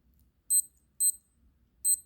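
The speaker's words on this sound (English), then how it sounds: "I want this alarm off." A SKMEI stainless digital watch, model 1123, sounding its alarm: three short, high electronic beep bursts in a quiet room, each a quick double chirp, spaced roughly half a second to a second apart.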